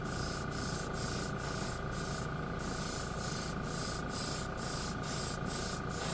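An airbrush or spray sprays dark primer paint onto a model kit in a steady close hiss, broken by regular short pauses, with a constant low motor hum beneath it.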